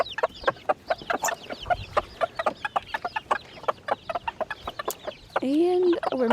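Several chickens with chicks cluck in a coop, a near, busy run of short, overlapping clucks and squawks that ends in a longer, drawn-out call.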